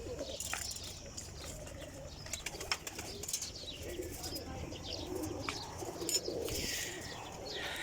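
Pigeons in a breeding loft coo steadily over a busy, close bed of chirps and occasional wing flaps, with scattered knocks and shuffles throughout.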